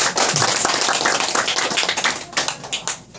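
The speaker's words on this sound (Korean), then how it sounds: "우리 다 같이 큰 박수로" Big round of applause at a clan association board meeting in Korea, dense clapping from a roomful of people filling the whole stretch, steady then thinning slightly toward the end.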